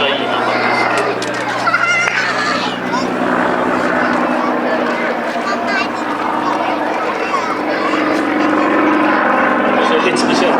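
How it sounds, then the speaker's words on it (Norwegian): A Russian-designed, Ukrainian-built Yakovlev Yak-50 aerobatic plane flies a display at Stord Airshow 2023, its steady engine drone running the whole time beneath continuous commentary. "Det en flytype som er bygd for veldig hissige akrobatikk."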